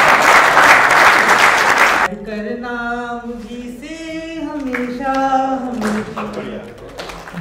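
Loud audience applause fills a poetry recital at Vasant Kavyotsav 2022, IIT Kanpur, for about two seconds, then cuts off as a voice begins singing a melodic line.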